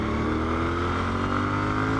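A Moto Guzzi Griso motorcycle accelerates hard on an interstate, its engine a steady, loud, dense drone with heavy wind rush throughout and no voices.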